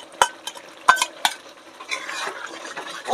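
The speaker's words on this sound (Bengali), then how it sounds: "পোস্ত বাটাটা দিয়ে এবার নেড়ে নেব" Poppy seed paste being stirred into a yogurt-braised katla fish curry in a pan, with a few sharp spoon scrapes against the pan followed by softer, steady stirring and a light sizzle.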